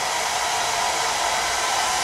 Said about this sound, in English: I got my handy dandy hair dryer right here. Now it's loud.